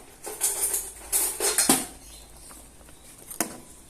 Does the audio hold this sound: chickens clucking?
no